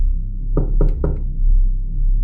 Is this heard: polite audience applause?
no